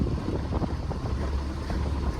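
A sailboat motors into the wind on its way to Lunenburg. A low, steady engine rumble sits under a broad rush of wind buffeting the microphone, continuous and close.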